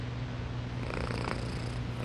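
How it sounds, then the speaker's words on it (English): A cat purrs steadily while being petted, a low continuous rumble close by, with no one talking. "Now he's purring"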